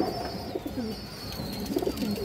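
A pigeon coos close by in soft, low, throaty phrases repeated a few times, with a faint high steady whine in the background.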